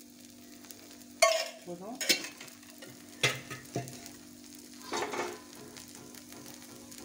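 Egg dosa cooking on a hot pan with oil added, a soft steady sizzle broken by a few sharp louder crackles and scraping bursts, close by with no talking.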